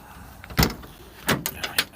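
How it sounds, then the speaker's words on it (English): Back doors of a small van are opened, heard as three sharp latch-and-hinge clunks close by, spaced under a second apart with quiet between them. "I will open the back doors of my little van"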